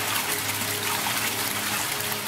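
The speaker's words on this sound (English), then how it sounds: "As you can see, the water is rising." Water rising and flowing steadily through a hydrocarbon rainwater filter barrier in a test setup, a continuous close trickling and gushing wash with no voices.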